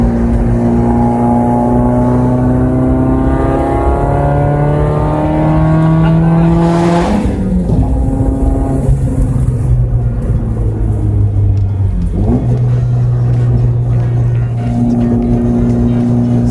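Big-turbo Audi TT with an ignition fault, its engine revving hard through repeated acceleration pulls on a chilly day. The loud, close note rises steadily, then drops between gear changes before climbing again.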